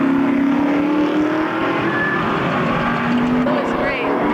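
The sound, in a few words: race cars driving on a road circuit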